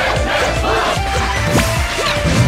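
A tournament crowd chants a player's name in loud, rhythmic unison, many voices pulsing together up close and filling the whole stretch with no break.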